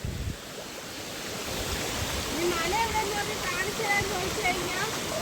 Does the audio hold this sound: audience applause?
no